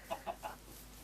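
A chicken in the video game Minecraft gives three short, soft clucks in quick succession, faint and alone.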